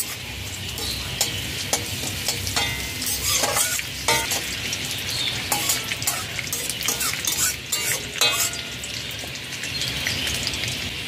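Mustard seeds, curry leaves and two chopped dried red chillies fry on a low-to-medium flame, crackling and spattering loudly up close while a spoon stirs through them.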